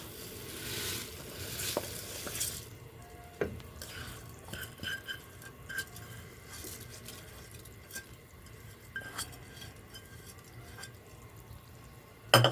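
Rice tipped into a pan of frying onions and lentils, a soft sizzle with scattered clinks and a few drips, fairly quiet, ending in a louder knock.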